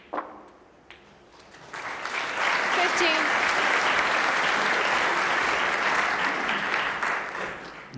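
A snooker crowd bursts into warm, sustained applause after a shot in a championship final, swelling quickly and holding steady, with a commentator speaking over it.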